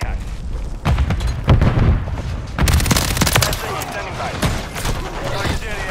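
Rapid bursts of gunfire from a new meta SMG in a video game, loud and near, with dense repeated shots and booming hits running through the whole stretch.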